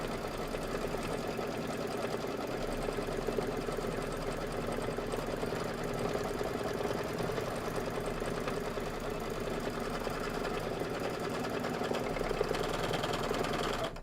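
A sewing machine runs continuously, stitching a tack-down line on a cream carton appliqué for a Kimberbell quilt block; a steady, close mechanical hum with fast needle chatter holds for the whole stretch without pause.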